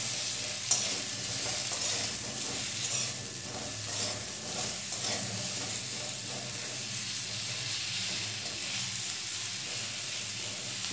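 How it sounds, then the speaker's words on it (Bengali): Cauliflower frying in hot oil with salt makes a continuous, even sizzle and hiss that stays close and fairly loud, with faint stirring scrapes and no voices. "তেলের মধ্যে নুন দিয়ে ভাজার অর্থ কপির ভেতরে নুন ঢুকে যাওয়া।"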